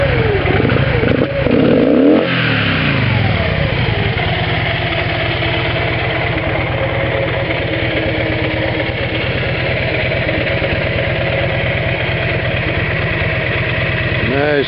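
An old fuel-injected Victory V92C motorcycle engine idles steadily and loud up close, with a smooth, even throb and light mechanical clatter throughout. A brief shift in tone comes early on.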